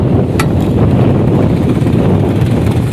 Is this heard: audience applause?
no